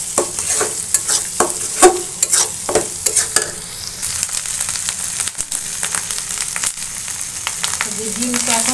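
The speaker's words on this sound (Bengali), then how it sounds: "এখন ডিমটা অলমোস্ট ভাজি শেষ।" Fish roe fries with dried chilli powder and other spices under a steady sizzle; in the first half, rapid scraping and clattering utensil strokes dominate, then the frying continues more evenly and close.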